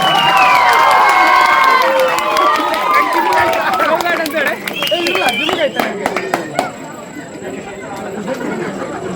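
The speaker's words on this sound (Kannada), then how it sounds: "ಇನ್ನೊಮ್ಮೆ ಜೋರದ ಚಪ್ಪಾಳೆಯನ್ನು ನೀಡಬೇಕು" An audience at a ceremony honouring a young child with a remarkable memory breaks into loud, crisp clapping and some cheering. The applause rises after a speaker's voice fades and continues to the end.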